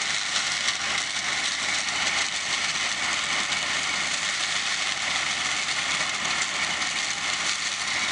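A combine harvester picking beans runs with a steady, dense engine and machinery roar, loud and unbroken throughout, with no voices over it.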